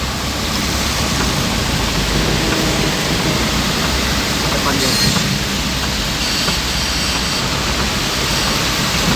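Heavy rain pours down on a car crawling through a traffic jam on the Bekasi toll road. The roar is loud and constant throughout, and someone briefly speaks over it.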